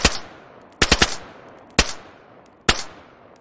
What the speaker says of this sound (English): we can also add the suppressor, which adds, of course, that muted sound and a slight accuracy increase. Even rapid fire is possible in short bursts